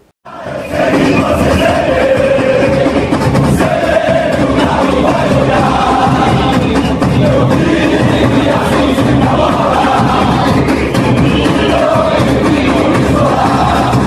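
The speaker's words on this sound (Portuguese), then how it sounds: "a torcida do Galo cantou pela primeira vez, Eu Sei Que Você Treme" Atlético Mineiro (Galo) supporters chant 'Eu Sei Que Você Treme' at an away match against Lanús in Argentina, a loud, dense crowd singing in unison with yells, sustained and unbroken throughout.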